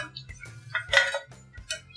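Fried aloo pakoras lifted from hot oil with a metal utensil, giving several sharp clinks and scrapes against a pan or wok in quick irregular succession, close and clear, over a faint low sizzle.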